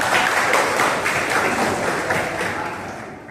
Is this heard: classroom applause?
yes